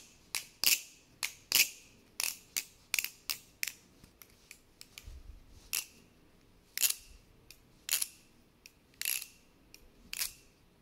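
A Damascus butterfly knife clone being flipped, with sharp metallic clicks and clacks in quick irregular bursts, close and crisp against a quiet background.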